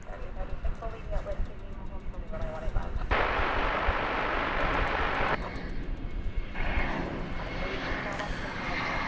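A Boeing 787-9 Dreamliner airliner arrives on the west side of DFW airport. Its jet roar builds to a loud broadband rush mid-clip, then fades over a steady background rumble, and no one speaks.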